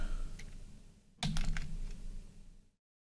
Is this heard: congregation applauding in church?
no